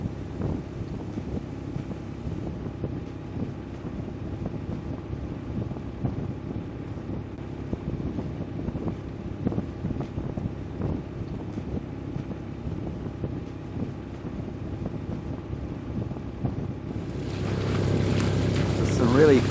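Sailboat cruising across a bay in light wind, with soft water wash against the hull and gentle wind noise throughout, swelling into louder gusty rushing near the end.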